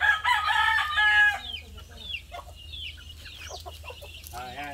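Native chickens cluck and call close by, with a loud crowing burst at the start followed by scattered softer clucks and squawks.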